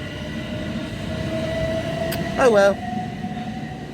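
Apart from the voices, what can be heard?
train passing at station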